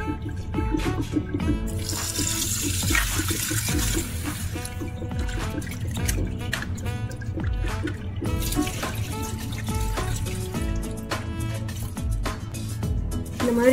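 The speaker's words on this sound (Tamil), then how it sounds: "இப்ப தண்ணி ஊத்தி வாஷ் பண்ணி எடுத்துடலாம்." Water is poured over cleaned anchovies being washed with salt and turmeric in a bowl, steady splashing and trickling with scattered drips and clatter throughout, close and continuous.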